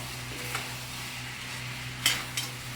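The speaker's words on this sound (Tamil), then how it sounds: "நம்ம அரைச்சி வச்சுருக்க பொடியும் இதில் மிக்ஸ் பண்ணிடலாம்" Ground spice powder and asafoetida are stirred into an ivy gourd curry as it cooks, a low steady sizzle broken by a few soft spoon scrapes and taps against the pan.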